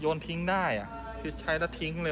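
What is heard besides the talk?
No everyday noises stand out.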